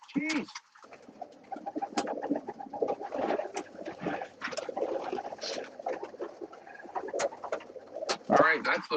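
Pigeons coo repeatedly, close and fairly loud, with a flock of birds shuffling and calling throughout, and a person speaks briefly alongside.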